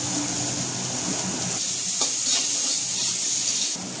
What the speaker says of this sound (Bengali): তেল গরম হয়ে গেছে, এবার ডালটা আমি একটু ভেজে নেব।